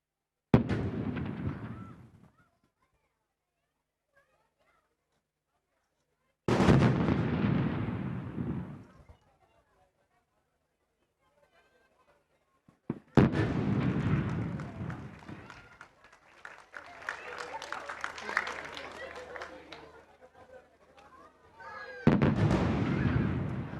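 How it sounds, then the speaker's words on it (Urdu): Artillery guns fire a 21-gun salute to the national flag at the Pakistan Day parade in Islamabad, with heavy booming blasts spaced several seconds apart, each rolling out in long echoing decays across open ground. "خواتین و حضرات، قومی علم کو اب 21 توپوں کی سلامی دی جائے گی۔"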